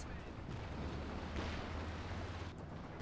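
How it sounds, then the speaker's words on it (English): Rumbling artillery-like explosions from a Stuka dive bomber strike in Company of Heroes 2, a 4v4 match on Port of Hamburg, a dense continuous roar of booms with a swell near the middle, with commentary voice underneath. "here comes the Stuka again. Kills an AT gun, kills the fighting position."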